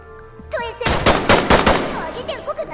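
Gunfire in the Ready or Not tactical shooter, a rapid burst of several loud, close shots in quick succession followed by lingering echoes and faint game sounds.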